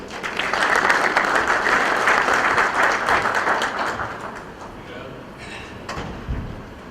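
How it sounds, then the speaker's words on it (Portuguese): An audience claps for a presenter at an engineering and automation talk, a full round of applause that holds strong for about four seconds, then thins out into scattered claps and faint room sounds. "Uma salva de palmas, por gentileza."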